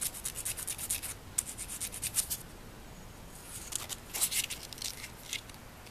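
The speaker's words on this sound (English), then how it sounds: "So I just need to sand this one down into a Phillips shape." Quiet, close scratchy rubbing in short uneven strokes, hand-sanding a metal screwdriver bit into a Phillips shape, pausing briefly before resuming.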